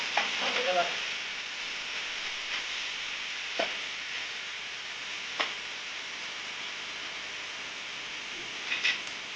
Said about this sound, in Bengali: এখানে আমাদের বেরেস্তার পেঁয়াজটা আমরা তেলে দিয়ে দিলাম